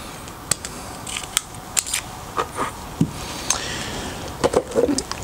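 A Rali Shark utility cutter having its blade released and swapped gives sharp, close plastic-and-metal clicks and snaps, scattered irregularly, with a small cluster near the end and no voices.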